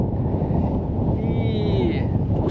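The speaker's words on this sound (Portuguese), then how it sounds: "Só que o vento tá atrapalhando." Strong wind at Figueirinha beach buffets the microphone in a loud continuous low roar, with a faint whistling tone briefly rising above it.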